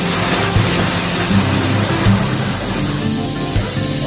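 Water pours into a washing machine tub with a loud, steady splashing rush, broken now and then by small thuds and knocks.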